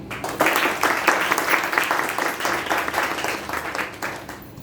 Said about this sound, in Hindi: तो एक बार विद्यार्थियों के लिए ताली।